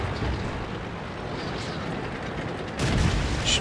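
In the World of Tanks game, a tank battle rumbles as a low, steady roar, then a single heavy cannon blast booms in near the end, louder and broader than everything before it.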